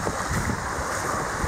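Sea waves wash pumice stones along Malibu Beach beside a resort in Onna Village, Okinawa, a steady close wash of surf with wind noise over the microphone.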